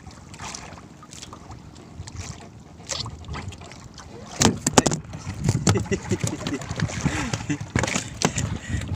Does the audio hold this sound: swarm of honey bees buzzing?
no